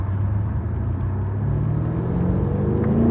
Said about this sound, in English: we've been very lucky with traffic as a truck comes flying along